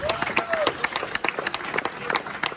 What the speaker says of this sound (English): big round of applause please for Paul Tate